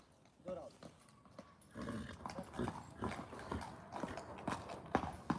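Horse hooves clip-clop in an uneven run of knocks that grow louder partway through, while people talk nearby.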